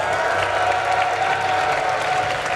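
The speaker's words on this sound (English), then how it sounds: "If you want to see Fnatic possibly taking this one, give them a cheer, guys." Live esports audience at a 2013 European summer split match between Evil Geniuses and Fnatic applauds and cheers for Fnatic, a dense, steady wash of clapping filling the hall throughout.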